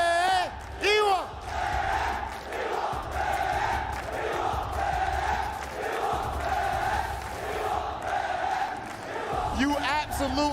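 A large crowd at a Fatal Fury: City of the Wolves esports event chants a player's name in loud rhythmic roars, cheering and whooping between the repeated calls.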